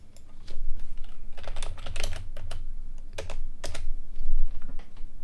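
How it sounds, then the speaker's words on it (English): Rapid clicking keystrokes on a computer keyboard as a search is typed, close and fairly loud, in uneven bursts with no talking. "If I type in maybe"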